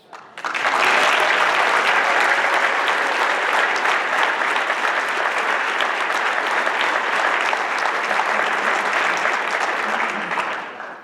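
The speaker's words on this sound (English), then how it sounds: "give CSL a major round of applause" A large audience applauds at a 2018 event honoring CSL, a loud, dense, steady wash of clapping that swells in quickly and holds for about ten seconds before trailing off, with no speech over it.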